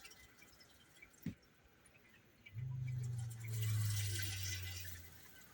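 A caravan hydrophore water pump switches on after a faint click, a low steady hum with running water that swells and then holds, quiet and close.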